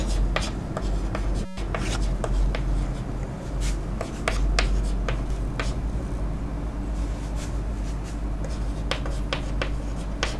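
Handwriting of a physics statement about forces between multiple charges, continuous scratchy pen strokes with frequent short ticks over a steady low background hum, no talking.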